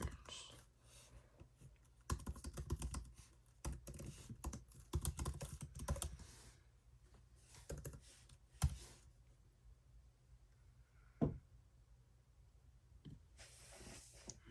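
Rapid keystrokes on a computer keyboard come in bursts with short pauses, fairly close and moderately loud, while someone sets up an eBay seller account.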